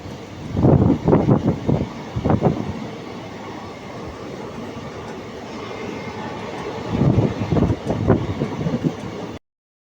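A passenger train runs at speed on the Gadag–Wadi railway line, its loud rolling rumble rising in clattering bursts near the start and again toward the end, steady in between, with no talk.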